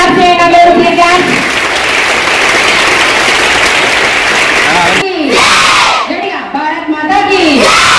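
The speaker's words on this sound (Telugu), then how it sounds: "క్లాప్ చేయండి అందరూ." An audience at a school event claps and cheers loudly as a crowd, and the clapping then gives way to raised voices shouting together.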